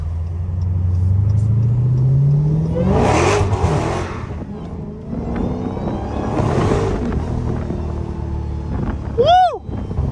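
A Dodge Hellcat's supercharged engine revs and swells loudly through repeated bursts as the car slides through corners, with a sharp tire squeal near the end.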